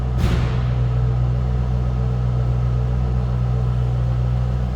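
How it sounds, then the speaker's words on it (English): A 2007 Ford Mustang Shelby GT with an aftermarket exhaust idles nearby, a steady deep rumble holding constant throughout, alone without voices. "Of course, a little bit different exhaust than the Shelby GTs."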